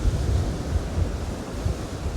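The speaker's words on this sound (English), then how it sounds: "That was a lovely splash." Ocean waves splash and wash on a shore with an outgoing tide, a steady broad roar of surf with low rumbling swells and some wind buffeting on the microphone, no voices.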